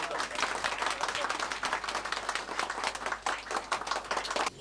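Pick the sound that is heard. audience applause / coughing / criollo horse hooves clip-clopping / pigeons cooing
audience applause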